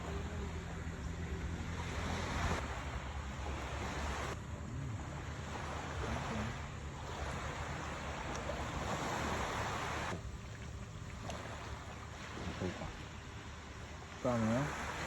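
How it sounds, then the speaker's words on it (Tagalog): Ocean waves wash onto a beach at a Sorsogon camp in a continuous, moderately quiet roar, with faint voices in the background. "background music namin, yung hampas ng alon"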